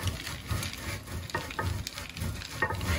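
Hard Concha Negra cheese, aged 14 days, rubbed against a grater in steady, repeated scraping strokes with a rough, gritty texture, heard up close with no talking.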